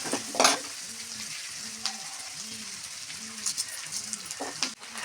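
Onions sautéing with rock salt in a pan for a garlic-pepper kuzhambu, a steady close sizzle with soft rhythmic stirring scrapes repeating throughout, and no talk.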